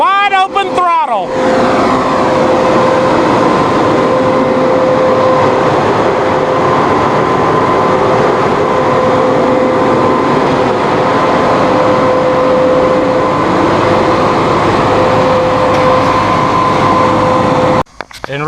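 A Massey Ferguson 7724 DynaVT high-horsepower tractor engine held at wide open throttle, a loud, steady drone with a constant whine on top, running unbroken for the full length before cutting off abruptly.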